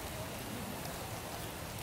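Rain falls as a steady, soft hiss of drops across a wide band, constant and fairly faint, with no voices over it.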